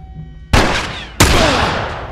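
Two loud, close shotgun blasts from The Last of Us video game, each a sharp crack with a long decaying tail, spaced about half a second apart.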